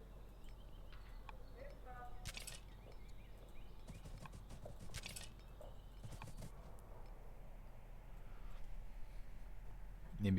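Horse sounds from the strategy video game Old World: soft clip-clopping hooves and a brief neigh, faint against quiet background game audio, with speech over the top.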